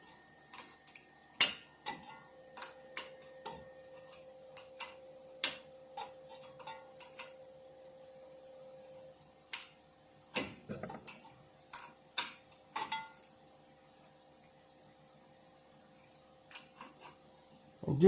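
An adjustable wrench works a tie rod into a 2001 Chevy Silverado's steering, giving sparse, sharp metallic clicks and clinks at irregular intervals against a quiet background.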